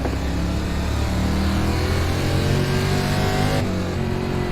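Race car engines roar together as a field of dirt late models accelerates off the green flag at Lanier in the iRacing sim, a dense, steady, loud engine drone with rising revs and no talk.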